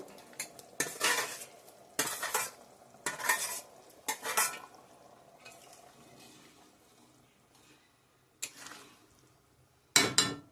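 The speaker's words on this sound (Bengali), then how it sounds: "ভেজে রাখা পনিরগুলো ছেড়ে দিলাম" Fried paneer pieces and potatoes are tipped into a pan, with a series of sharp metallic clatters and scrapes from a utensil against the pan over a faint sizzle, heard at close range.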